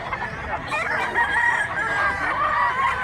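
A gamecock stag crows at a cockfowl sale in Mantalungon, Cebu, a sustained strained call riding over steady crowd murmur and other birds nearby.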